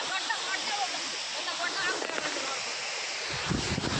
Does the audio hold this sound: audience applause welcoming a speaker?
no